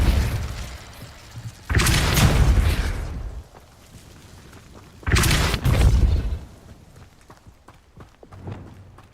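Depulso force spell cast in the Hogwarts Legacy video game, heard as two loud, broad whooshing blasts a few seconds apart, followed by a fainter third burst near the end.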